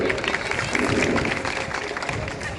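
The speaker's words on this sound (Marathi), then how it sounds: "त्याबद्दल सर्वांचं प्रथमतः टाळ्या वाजवून स्वागत करायचं सगळ्यांनी." An audience at a panchayat samiti and zilla parishad election gathering claps to welcome a woman, a dense, continuous wash of many hands that holds steady throughout.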